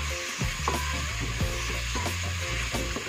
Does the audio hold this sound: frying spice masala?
yes